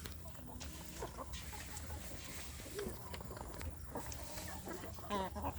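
Village chickens and roosters cluck and chatter faintly in an outdoor yard, scattered calls over steady background noise, with some soft speech nearby.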